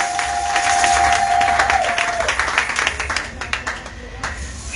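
A church congregation claps and cheers during a sermon, loud sustained applause with scattered shouts that gradually thins, while a held tone sounds briefly at the start.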